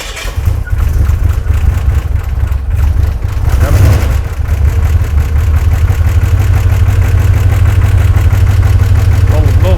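A turbocharged AWD S10 truck engine catches and settles into a loud, deep, lumpy idle, slightly noisy and a bit uneven, with voices talking over it near the start.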